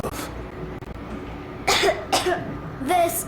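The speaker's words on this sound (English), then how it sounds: "I have this cough." A voice coughs three times in quick, sharp bursts after a quieter stretch, in the video game Metro Exodus.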